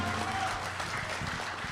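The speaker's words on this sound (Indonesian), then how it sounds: "Tepuk tangan yang meriah Bapak Ibu." Applause from a crowd at the opening ceremony of a Jakarta labour union regional congress, a short, dense, steady clatter of many hands filling the hall.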